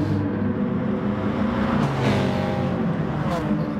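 Race cars in a league race on the Lago Maggiore circuit of a racing video game, including a Lexus and a Subaru WRX, with a steady loud engine drone and passing revs, under a commentator talking.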